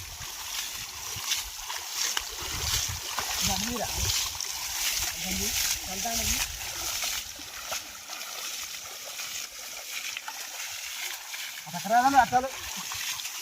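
Water is splashed and poured over sheep during washing outdoors, producing a steady broad wash of sloshing and spattering throughout, with a few brief voices calling in the background.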